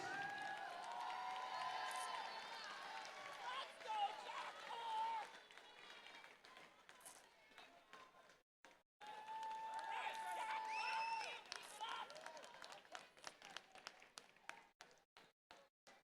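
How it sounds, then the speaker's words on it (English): Spectators at an indoor rowing championship cheer, whistle and clap for lightweight rowers finishing their race, a loud crowd roar that breaks off briefly and then returns as scattered claps, with an announcer talking over it. "let's cheer on these last few lightweights"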